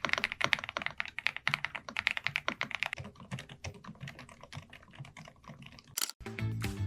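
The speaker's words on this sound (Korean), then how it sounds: "모두 뭐 리니어 방식으로 부드러운 타건감을 느낄 수 있으며 가스켓 구조로 쫀득한 느낌과 적당한 반발력이 있어 구분감이 확실한 타이핑을 할 수 있다는 것이죠" Rapid typing on a gaming keyboard with smooth linear switches, a gasket-mount build and Cherry-profile keycaps, giving a dense run of close, soft-thocking keystrokes that ends with a short burst of other sound.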